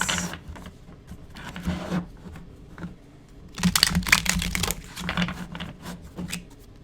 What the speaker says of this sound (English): So I want to shuffle a little more.